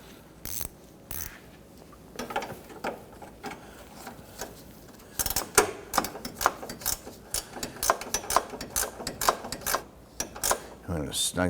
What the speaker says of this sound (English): We'll tighten down the 2 bolts in the bracket.